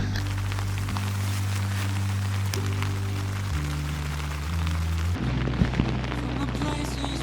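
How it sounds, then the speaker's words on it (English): Steady rain pours down during a mountain thunderstorm on the Colorado Trail, a dense continuous hiss heard from shelter, with a low droning hum underneath and a few louder patters near the end. "I'm sheltering from the rain."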